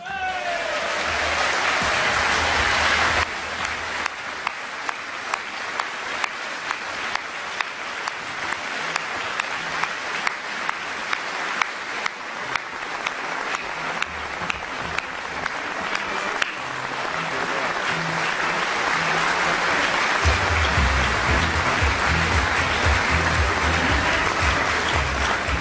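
A conference audience at a UKIP party gathering breaks into sustained, loud applause that runs without pause, swelling and thinning slightly, with some voices mixed into the dense clapping.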